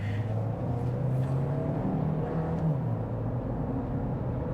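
A 2025 Chevrolet Equinox LT AWD with an 8-speed automatic idles and creeps along in traffic, a steady low engine rumble and road drone from inside the cabin with slight rises as it moves.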